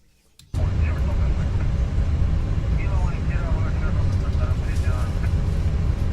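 Airplane cabin interior in a flight simulator game: a loud, steady, low-heavy engine and air drone cuts in abruptly after a brief quiet start and holds unbroken to the end, with faint voice-like murmurs mixed in.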